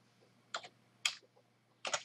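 Keys on a computer keyboard are typed to enter a code, three quick close clicks spaced out over a quiet background with no voices.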